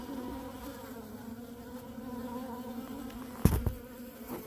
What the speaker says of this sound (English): bees are still in there going crazy